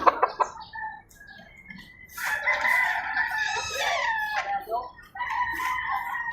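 Rooster crowing in a long, loud drawn-out call with a second crow following close after, and brief clucking and a faint voice at the start.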